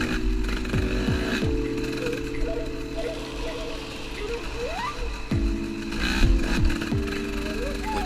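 A Suzuki ST225 motorcycle engine labors over rocky ground, its steady drone rising and dipping in pitch as the rider works through rough terrain, close and continuous with brief gear-like shifts.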